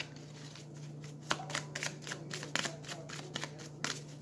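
Tarot cards are shuffled and drawn up close, giving soft riffling and papery flicks with a few sharper snaps, quiet over a low steady hum.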